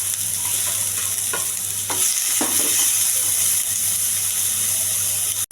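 Onion, curry leaves and green chili frying in oil, giving a loud, continuous hiss and sizzle up close, with a few soft scraping stirs partway through.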